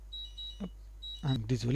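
A phone alarm beeps in short, thin, high tones, two brief bursts separated by a pause, followed by someone speaking French.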